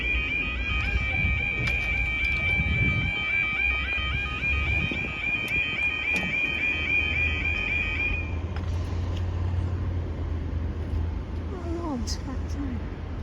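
A steady flat-tone alarm sounds at the Exeter St David's railway level crossing in Devon, continuous for about eight seconds and then stopping, while people talk nearby over outdoor noise.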